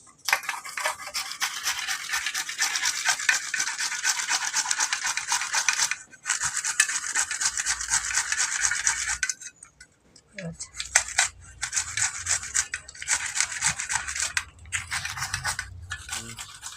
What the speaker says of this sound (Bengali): আপনারা দেখলেন আমি কলাটা ঘষে নিয়েছি।